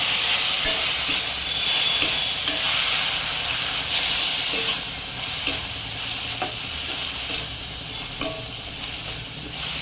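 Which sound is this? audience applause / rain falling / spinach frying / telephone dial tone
spinach frying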